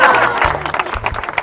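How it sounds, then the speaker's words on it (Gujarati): A television studio audience claps in a short burst of close, dense applause, with a voice talking over it. "પાડો તાળી મારા માટે।"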